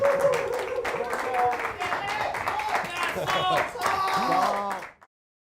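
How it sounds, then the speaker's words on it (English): Studio audience at a late-night music and talk show breaks into sustained clapping and applause that fades out near the end, with voices talking over it. "There's the applause."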